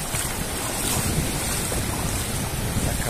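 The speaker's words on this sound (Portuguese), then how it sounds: "Só curtindo esse barulho aqui do mar" Sea waves wash steadily onto the beach at Praia Grande, Canto do Forte, on the São Paulo coast, a continuous broad surf roar with wind noise on the microphone and no talking.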